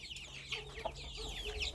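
Young chickens and bantam hens cluck and chirp busily in a flowering garden on grass, a dense, fairly close chorus of overlapping calls and scurrying with no voices.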